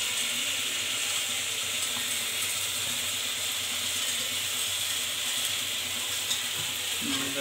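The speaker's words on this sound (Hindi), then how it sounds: "ये हमारी कुछ तलकती पटकती मैगी" Maggi noodles with masala sizzle and fry steadily in a pan, a continuous crackling hiss with faint clinks of stirring, close and even in level throughout.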